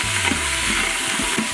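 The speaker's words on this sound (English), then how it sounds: "then I'm also going to add some poblano peppers here" Poblano peppers frying in a pan for jambalaya, a steady close sizzle with soft scraping stirring strokes underneath, no voices.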